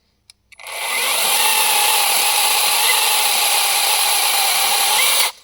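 A cordless battery chainsaw, billed as the best saw of 2022-2023, cuts steadily with a loud, even whine that lasts about five seconds and then stops abruptly, with no talk over it.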